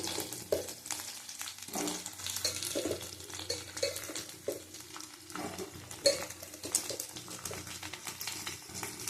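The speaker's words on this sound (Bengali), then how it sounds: "এটাও ভালো করে ভেজে নেব নুন হলুদ দিয়ে।" Eggplant pieces fry in a pan with salt and turmeric, a steady broadband sizzle with frequent scraping and clinking stir strokes from a spatula, close and moderately loud, without speech.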